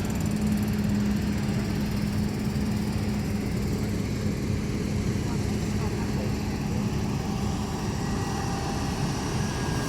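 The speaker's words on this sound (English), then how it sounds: "coming into the ring, first of all, we have this big, large class Zerian 4000 tractor" A large Claas Xerion 4000 tractor rolls through the machinery parade at an agricultural and pastoral show, its engine droning steadily at a moderate distance while an announcer speaks over the public address.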